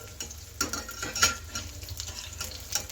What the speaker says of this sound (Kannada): ಕಲರ್ ಬರೋ ಥರ ಫ್ರೈ ಮಾಡಿ ತಗೋಬೇಕಾಗತ್ತೆ